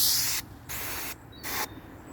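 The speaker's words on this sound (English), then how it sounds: "I'm going to put some silicone again." Silicone lubricant sprays onto a car's window guide in three short aerosol bursts, close and hissing, separated by brief pauses.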